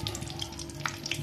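Cumin seeds hit hot oil in a kadai while poha upma is being made, giving a steady, close sizzle with faint crackles and no voices.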